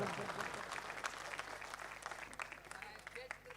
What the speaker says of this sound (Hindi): सारे लोग ताली बजाकर निकट को बताएं क्या आप उन्हें सुन रहे हैं।